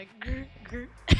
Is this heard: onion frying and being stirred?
no